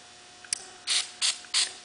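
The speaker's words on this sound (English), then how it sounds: "we're going to do here is that we're just going to spray a little goof off on here" Goof Off solvent sprayed onto the sticker of an LP cowbell: after a faint click, three short, hissing aerosol bursts come in quick succession, close by and with no talk.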